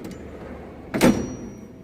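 A large drawer on a Snap-on KRL1033 roll-cab tool box slides open with one short, close rolling rumble and clack in a quiet workshop, lasting about a quarter second.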